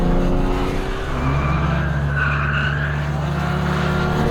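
A four-wheel-drive sports car slides sideways on a race track, with loud engine roar and a brief tire squeal rising mid-way before the drone continues.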